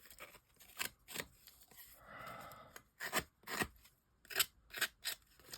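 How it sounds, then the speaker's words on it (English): A scissors edge is dragged along paper to distress it for a shaving-foam background craft, giving several close, rasping scrapes in short bursts with brief pauses between strokes. "just to drag the edge of my scissors"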